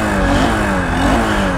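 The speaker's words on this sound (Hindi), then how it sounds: "एग्जॉस्ट नोट सुना दे रहा" A Honda SP 160 BS7 motorcycle revving steadily nearby, a continuous engine exhaust note with slight rises in pitch throughout, no voices over it.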